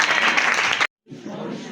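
A church congregation bursts into loud applause and cheering, which drops out briefly, then resumes at a slightly lower level.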